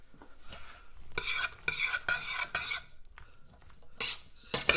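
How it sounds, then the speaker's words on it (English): Cracked black pepper being stirred into food in a pan, bursts of scraping and clinking from a utensil in several short rounds with a faint sizzle underneath, no talking. "Stir that up."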